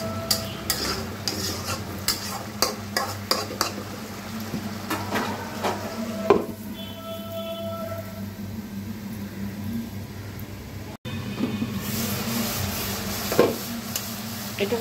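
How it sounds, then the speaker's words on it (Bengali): Chicken giblets and wings with bottle gourd are stirred in a pan over the heat. A steady sizzle runs underneath as a spoon scrapes and clinks against the pan in scattered knocks, and no one speaks. "খুব ভালো করে এটাকে কষিয়ে নিতে হবে"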